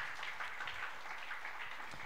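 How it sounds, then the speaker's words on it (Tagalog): A church congregation claps for the Lord, a soft, dense spatter of applause from many hands, steady and somewhat distant in a large room. "Palakpak po para sa Panginoon."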